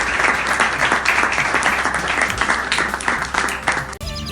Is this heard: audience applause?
yes